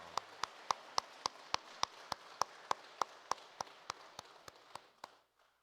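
Slow, evenly spaced claps, about twenty sharp strikes at a steady beat, ring out in a church congregation welcoming a new member during Sunday worship, fading toward the end and then stopping.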